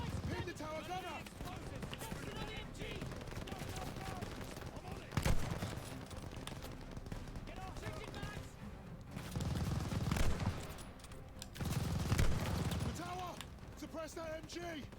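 Machine gun fire in a first-person shooter match, dense overlapping bursts and rattling shots running throughout under ongoing game noise, with louder swells of fire near the middle and end while a player talks.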